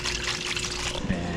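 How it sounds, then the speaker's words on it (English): Water trickles and splashes steadily from a small homemade fountain, a soft continuous dribble close by, with a brief murmur of a voice near the end. "that's my little homemade fountain"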